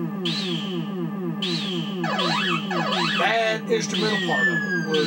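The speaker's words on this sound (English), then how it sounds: "That little siren sound you're hearing" A looping electronic siren from the arcade game Galaxian, its dive-bombing sound, wails up and down over a bouncy chiptune melody, with someone talking briefly over it.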